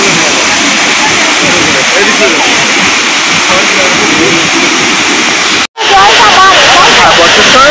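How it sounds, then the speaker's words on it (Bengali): A waterfall near Ranchi, Jharkhand, with water falling endlessly over big rocks, roars loud and close as dense, continuous rushing noise, cut by one brief drop before resuming. "অনবরত অফুরন্ত জল পড়ে যাচ্ছে, মানে জলের শেষ নেই।"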